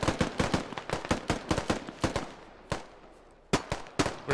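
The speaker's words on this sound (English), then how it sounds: "Start shooting into the village." Rapid gunfire in the video game SquadOps, with a sharp string of close shots that thins out to a few isolated cracks after a brief lull.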